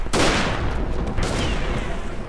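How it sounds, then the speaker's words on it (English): Mortar shots called in during a Verdun video game match boom out in a dense burst of overlapping blasts and gunfire, loud and continuous for a couple of seconds, with no voices. "I'm just gonna keep calling in mortar shots until I kill somebody"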